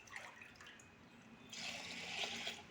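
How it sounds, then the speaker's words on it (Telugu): Water poured from a glass into a cooking pot while making sorghum upma, a quiet steady splash and trickle that grows louder midway. "ఇప్పుడు మనం దీంట్లో వాటర్ పోసుకుందామండి"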